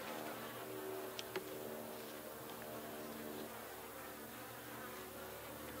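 Honey bees in a horizontal beehive make a faint, steady buzzing drone with a few soft clicks and taps early on, close and low in level, without speech.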